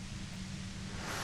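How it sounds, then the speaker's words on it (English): Steady radio white noise in the video game Disco Elysium, a continuous broadband hiss with a low hum underneath, moderately quiet and unbroken, with no voices over it. "If you've got something really important to say, you can do it through the white noise."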